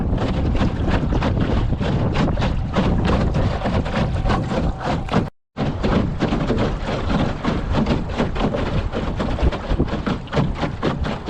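Cold wind buffets the microphone on an open boat driven by a Torqeedo electric outboard, a loud steady roar with gusting texture that cuts out briefly midway, no voices.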